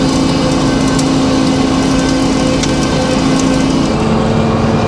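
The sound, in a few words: sawmill sawing a pine log into slabs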